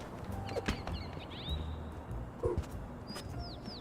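A bird in the video game Little Kitty Big City gives a few short chirps and rising whistles, with faint game ambience and soft thuds and no voices.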